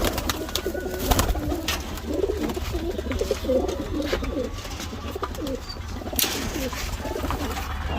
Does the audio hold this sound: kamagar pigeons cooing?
yes